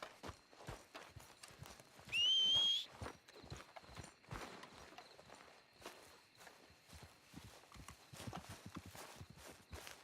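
Horse hooves clip-clopping at a steady walking rhythm in Red Dead Redemption 2, drawing closer through the full stretch, with a brief high tonal chime breaking in near the start.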